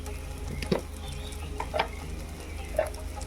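Ground pigeon pea beans and spices are stirred in hot oil, with a soft sizzle under three scraping strokes of a spoon against the pan.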